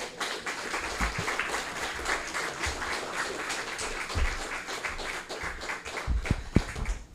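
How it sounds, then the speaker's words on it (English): Morning breakfast club audience applauding their guest speaker, a moderate wash of clapping from a modest room that carries on for several seconds, with a few louder close claps and taps near the end. "So please, a round of applause for our breakfast speaker."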